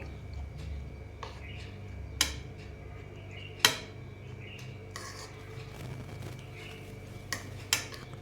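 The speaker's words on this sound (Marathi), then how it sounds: "आता मिक्स करून घेऊयात सगळ्या पत्तागोबीमध्ये आपल्याला एग मिक्स करून घ्यायचं आहे" Eggs being mixed into shredded cabbage in a bowl, giving soft scraping and a few sharp clinks of a utensil against the bowl, close and fairly quiet.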